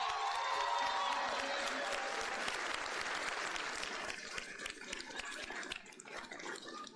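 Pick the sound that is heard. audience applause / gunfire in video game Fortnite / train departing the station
audience applause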